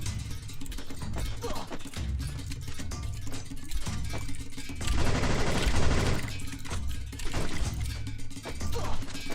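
Automatic gunfire in the mobile battle-royale game Free Fire, loud sustained bursts of shots running almost throughout, heaviest in a dense volley around the middle.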